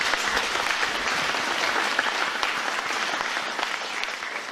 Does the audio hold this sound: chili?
no